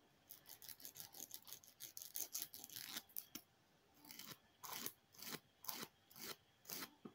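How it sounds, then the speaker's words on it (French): A nail file rasps along the side of a broken fingernail in quick, rhythmic strokes. A fast run of short scrapes pauses briefly, then slower, evenly spaced strokes follow, close and fairly soft. "avec la lime, je vais limer le côté"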